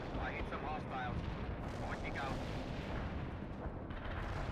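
Soviet heavy artillery firing in the World in Conflict game: a steady, dense rumble of distant booms and shell blasts rolling on without pause, with a few brief voice-like bursts drifting through the din.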